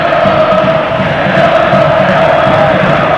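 Football fans of Ponte Preta roar and chant together in a packed stadium during a 2001 Paulistão match against São Paulo, a steady dense wall of crowd noise with no break throughout.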